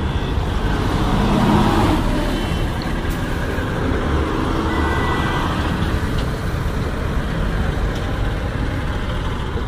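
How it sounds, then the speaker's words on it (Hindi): Busy road traffic in Srinagar, a dense, continuous rumble of idling and moving car and truck engines close by, steady and fairly loud throughout. "ये श्रीनगर का ट्रैफिक"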